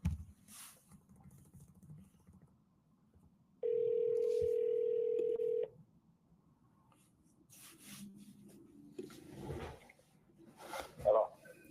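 On an outgoing phone call, a loud steady tone sounds for about two seconds, set between quieter handling noises and brief rustles. Faint muffled speech follows near the end.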